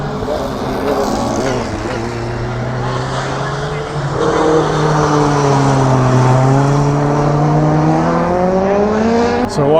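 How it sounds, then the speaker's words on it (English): Race cars driving past at Lydden Hill race circuit, a loud continuous engine roar that swells as cars pass close by, with rising and falling pitch sweeps and a sharp burst near the end. "It's just nice to turn up and watch the racing and be this close to the cars."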